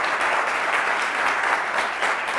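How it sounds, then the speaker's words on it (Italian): Sustained audience applause at an Italian quiz show evening, a thick, even roar of many hands clapping at close range with no break. "un applauso a Claudio Romanzino"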